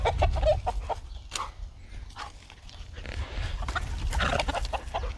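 Backyard chickens clucking in a garden, a steady chorus of soft, nearby clucks and scratches with a breezy, rumbling background.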